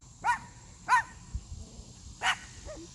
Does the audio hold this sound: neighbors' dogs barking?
yes